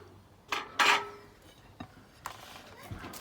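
Cooked potatoes set down onto a plate, a few separate soft thuds and light clatters of a utensil against the plate, spaced out over a quiet background.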